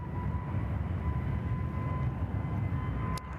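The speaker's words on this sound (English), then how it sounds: "That sound you're hearing is a Jetstar A321 just departing on runway left" Steady broadband jet roar with a faint whine from an Airbus A321 departing Sydney Airport, sustained and fairly distant, holding level throughout without voices.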